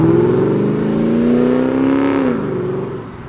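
A modified car rumbles out of a car show, its engine rising in pitch through a loud rev that then drops away as it moves off, close and without voices.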